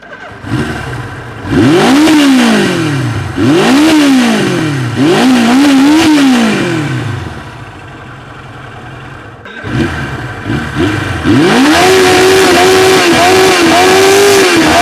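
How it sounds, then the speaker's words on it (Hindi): A Suzuki GS750 motorcycle engine revs repeatedly in sharp bursts, then settles into a loud, steady idle and revs again, close and with nothing else over it. "तो अब सुनते हैं इसका एग्जॉस्ट नोट।"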